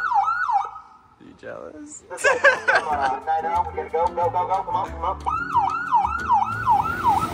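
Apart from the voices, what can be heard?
police car sirens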